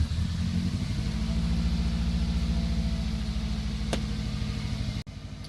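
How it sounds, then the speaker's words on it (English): A 1999 Subaru WRX engine rumbles steadily at idle after an in-tank fuel pump replacement, a low continuous drone close by, with a brief sharp click near the end as it cuts out. "I'm going to start the car now."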